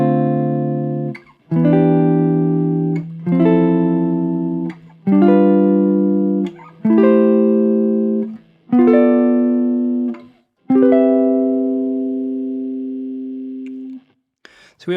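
Guitar playing a harmonized major scale in drop 2 seventh chords, part of a major 2-5-1 progression: about eight strummed chords stepping upward, each ringing a second or more, clean and close with no talking.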